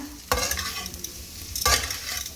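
Taro (colocasia) roasting in a pan, a continuous sizzle punctuated by two sharp stirring scrapes about a second apart, close and fairly loud with no talking.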